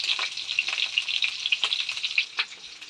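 Pointed gourd pieces fry in hot oil in a pan, giving a steady, close sizzle with light crackles and occasional stirring taps throughout.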